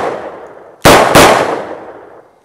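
Two sharp, loud gunshots from a Charter Arms Pathfinder .22 Magnum snub-nose revolver ring out in quick succession, each with a brief decaying tail, following a stretch of quieter background noise.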